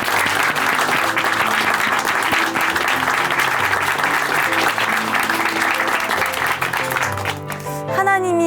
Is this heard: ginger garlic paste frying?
no